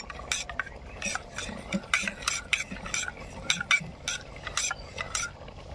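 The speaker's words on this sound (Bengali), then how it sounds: "কিছু পরিমাণে ক্ষীর মাখিয়ে নেব। সুন্দরভাবে মিশ্রণ করে নেব।" Chicken being stirred with kheer in a pot outdoors, a run of repeated spoon scrapes and clinks against the metal pot, moderately close with a soft background sizzle.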